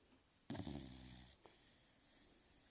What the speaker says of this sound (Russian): Уже храпит, как дед старый.